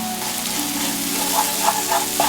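Minced garlic stir-fried over low heat with soy sauce and a spoonful of seafood sauce sizzles steadily up close, with a few soft bubbling pops near the end.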